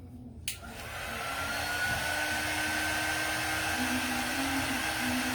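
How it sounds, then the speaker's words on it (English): A heat gun runs steadily at close range, drying faux caramel apples. Its whirring blast starts after a brief click and holds constant for several seconds, with no talking. "Let's see if I can dry these a little bit with the heat gun."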